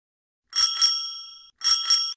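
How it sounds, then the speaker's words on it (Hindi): A bicycle bell rings out in two quick double rings, bright and metallic, close and clear against silence. "घंटी की आवाज भी नहीं सुन रहे हो?"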